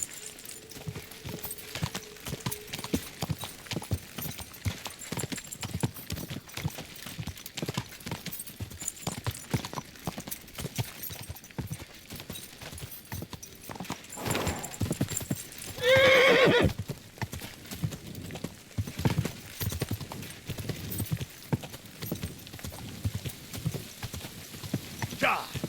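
Horse hooves clip-clop in a steady galloping rhythm in the medieval video game Kingdom Come Deliverance 2, with occasional neighs and whinnies over ambient game sound and someone talking at moments.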